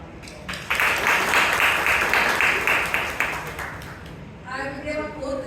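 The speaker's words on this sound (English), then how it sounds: "Let's give our evaluator and our speaker in round of applause" Members at a Toastmasters club meeting in Bangalore give a round of applause, a burst of clapping that swells quickly, holds for a few seconds, then fades as a voice begins speaking over the tail.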